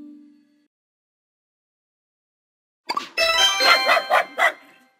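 After nearly three seconds of silence, a single dog bark rings out, followed by a short run of quick, loud yelps or barks, close by.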